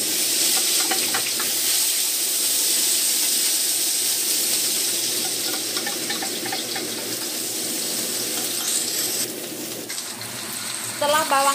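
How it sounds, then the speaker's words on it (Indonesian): Shallots, garlic, dried shrimp and mushrooms are stir-fried for a taro spring roll filling, a constant close hiss of frying with faint stirring scrapes that turn busier toward the end. "Kita tumis-tumis sampai harum"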